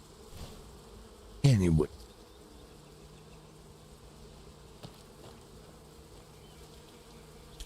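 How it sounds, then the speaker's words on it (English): Bees buzz loudly in the Where Winds Meet video game in one brief, dense burst lasting under half a second, then the sound drops away to quiet game ambience with a little speech. "Oh, I was gonna say, I hear bees."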